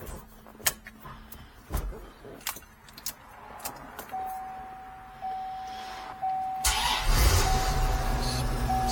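C4 Corvette Grand Sport: keys click and jangle, a whirring starter, then the engine fires and settles into a loud, steady idle close by.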